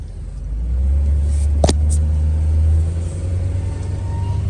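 A Ford truck drives off after a rough-idle repair to the idle air control valve and throttle body, its engine a steady, loud low rumble with a brief click partway through and no talk.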